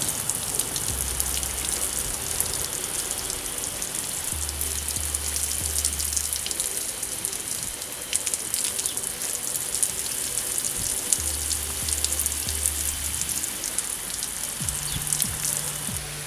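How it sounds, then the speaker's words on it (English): Cool water streaming steadily from a shower to rinse conditioner from 4C hair, a continuous close hiss and patter that runs unbroken throughout with no talk. "I'm going to rinse the conditioner out with cool water, like as cool as I can take it."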